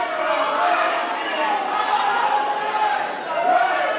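A wrestling crowd at an independent pro wrestling show chants loudly and steadily, its support split between two wrestlers, with a commentator talking over the roar throughout.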